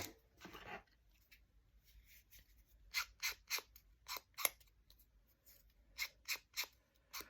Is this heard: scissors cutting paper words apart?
yes